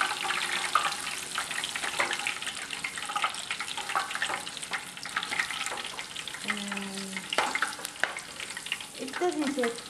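Capsicum shallow-frying in oil crackles and sizzles close by, broken by stirring scrapes and a short run of tap water near the end, with no talking.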